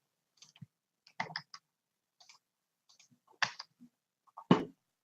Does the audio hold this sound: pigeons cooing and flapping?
no